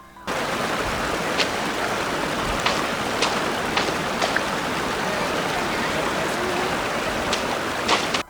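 Steady non-stop rain in the Fontaine region of the Genshin Impact video game hisses as a dense, even wash, broken by a few faint higher ticks.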